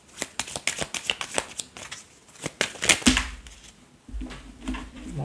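Playing cards are handled and dealt at close range in a rapid run of crisp snapping flicks and slaps, followed by softer shuffling and a low background hum.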